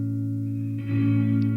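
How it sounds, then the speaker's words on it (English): Sustained tonal music runs through the Crystalline reverb plugin with its synced start, and a shimmering, echoing wash swells in partway through to thicken the sound. "it's got this sync feature, so it can change when this reverb starts in line with the track"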